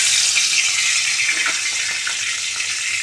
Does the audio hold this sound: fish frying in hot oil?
yes